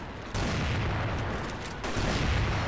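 Sniper rifle gunshots in the video game CrossFire, a couple of sharp booming shots ringing out over a dense, continuous game soundscape, fairly loud and with no voices.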